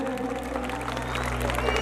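A crowd at an outdoor akhara at Gidderbaha applauds for the Raja Sahib, a steady dense patter of clapping heard from amid the audience over a background hum.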